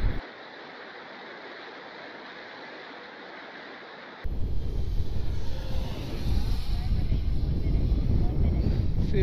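Wind gusts outdoors during a radio-controlled T-7A model jet flight: quiet background at first, then a sudden rush of heavy, rumbling wind buffeting close to the microphone that persists to the end.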